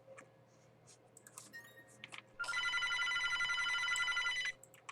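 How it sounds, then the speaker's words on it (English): A telephone rings inside the video game Airplane Story 2: a steady electronic bell trill lasting about two seconds, preceded by faint clicks and small in-game noises. "Guys, the phone is ringing."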